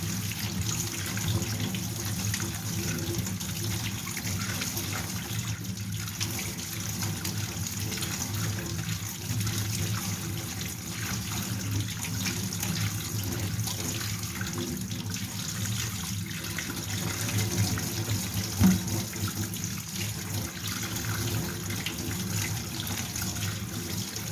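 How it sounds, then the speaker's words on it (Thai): Tap water runs steadily into a sink while small fish with their heads cut off are rinsed under the flow, a continuous close splashing hiss with faint handling sounds and no talk. "นี่แล้วก็ล้างให้สะอาดล้างนานๆนะคะให้น้ำไหลผ่าน"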